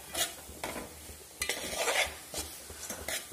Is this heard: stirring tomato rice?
yes